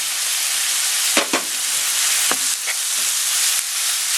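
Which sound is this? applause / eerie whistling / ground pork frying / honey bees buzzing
ground pork frying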